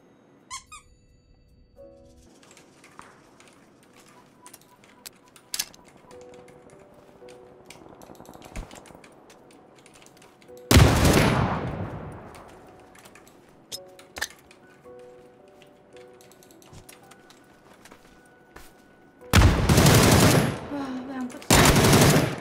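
Gunfire in a battle royale video game: a sharp burst near the middle and a longer, louder volley at the end, separated by quiet stretches of faint in-game rustles and clicks.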